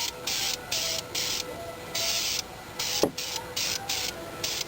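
Spray can hissing flat aluminum flameproof ceramic paint onto exhaust headers in short, even bursts, about ten light passes with brief pauses between them.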